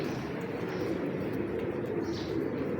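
Pigeons coo in a low, continuous murmur close by, with a faint flutter of wings and no talk.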